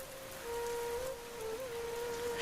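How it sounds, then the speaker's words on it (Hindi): Steady heavy rain of large drops patters on the ground with no pause, a continuous wash of drops, with a faint steady tone running underneath. "अचानक तेज बारिश शुरू हो गई। मोटी मोटी बूंदें जमीन पर गिरने लगी"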